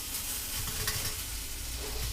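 Homemade hash browns fry in a pan, browning and crisping on the bottom, giving a steady, close, continuous sizzle with faint stirring noises and no talking.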